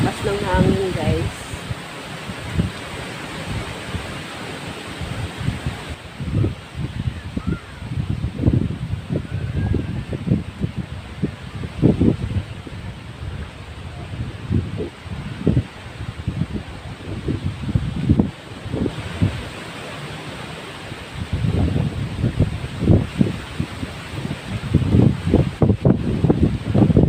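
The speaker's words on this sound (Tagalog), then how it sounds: "Lakas ng hangin guys." Strong wind gusting and rustling leaves outdoors near a church in Nasugbu, Batangas, with buffeting rumbles against the phone microphone rising and falling in waves, loud and close throughout.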